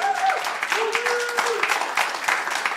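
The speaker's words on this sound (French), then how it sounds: "accueillons-le debout avec applaudissements." A church congregation rises and applauds a guest speaker, a brisk burst of many hands clapping, with voices calling out over it near the beginning.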